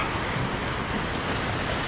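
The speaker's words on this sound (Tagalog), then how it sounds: "At medyo mahangin na rin kasi" Strong wind blows along a seashore at a fishing spot, a steady roaring rush mixed with surf noise buffeting the microphone, with no talking.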